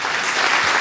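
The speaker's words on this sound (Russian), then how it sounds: "Под ваши бурные аплодисменты" Brief burst of dense applause from an audience at a company celebration of Chemists' Day at the Kingisepp Fosforit plant, a steady wash of many hands clapping, fairly loud and close.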